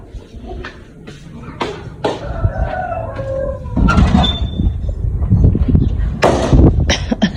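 Several chickens cluck and call nearby at feeding time, with repeated squawks and a brief crow-like cry over a busy background.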